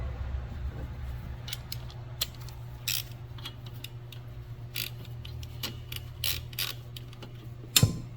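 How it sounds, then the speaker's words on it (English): Wrench loosening the 10 mm valve adjusters on a Predator 670 engine during head removal: scattered light metallic clicks and ratcheting ticks over a steady low hum, fairly faint, ending in a brief louder clank. "We're going to go ahead and loosen up the adjusters. That's just a 10 mil."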